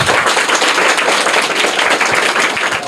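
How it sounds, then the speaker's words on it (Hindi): Loud, dense applause from a school audience during a quiz competition, continuous clapping from many hands filling the whole stretch with no break. "जोरदार तालियां।"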